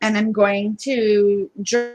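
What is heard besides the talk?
No distinct noise like a dog, phone or traffic.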